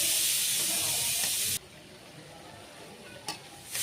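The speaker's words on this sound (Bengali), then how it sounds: "দিয়ে এবার এগুলো একটু ভালো করে কষিয়ে নেব।" Ginger-garlic paste and ground spices sizzle and fry in a pan while being stirred for a capsicum chicken keema chana dal dish. A loud hiss runs for about a second and a half, then quiets to a softer sizzle with a brief clink near the end.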